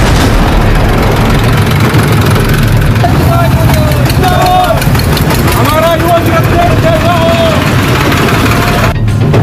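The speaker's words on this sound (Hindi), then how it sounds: "योगी को घेरने के लिए ट्रैक्टर चल पड़े हैं।" Tractors driven by farmers on a protest rally toward Lucknow in western Uttar Pradesh, a loud steady low engine rumble throughout, with a faint voice briefly heard over it.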